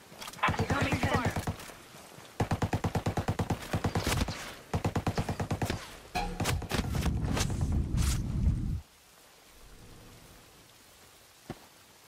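Bursts of rapid automatic gunfire from a firefight in the video game Tom Clancy's Breakpoint: three loud, quick rattling volleys, then a dense roar of shooting that cuts off into quiet with one faint late crack.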